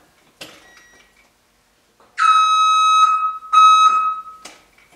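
A Whelen emergency siren unit gives two loud, steady electronic alarm tones, each lasting about a second, with short gaps and a couple of faint clicks around them.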